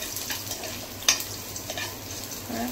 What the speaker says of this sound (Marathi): आता हांवें जिरे, सासवां आनी लसूण तेलान घालून फ्राय करता।